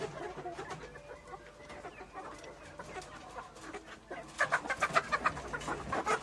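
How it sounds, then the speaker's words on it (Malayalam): Four-month-old roosters cluck and call inside a cage on a farm, a steady mix of clucks at moderate distance that grows louder and busier toward the end. "ഇത് പൂവൻകോഴികളാണ്."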